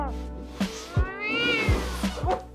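Cartoon cat from The Simpsons meowing in a few drawn-out, wavering cries with short yowling bursts, close and clear with no talking.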